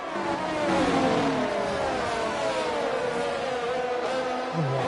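Formula 1 cars race at the Japan circuit in the F1 22 video game, a loud sustained engine whine with rising and falling pitch as the cars accelerate side by side, heard without any voices.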